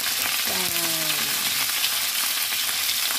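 Chicken wings fry in a pan with a steady, dense sizzle that fills the whole stretch, with a brief tonal squeal early on and no talk.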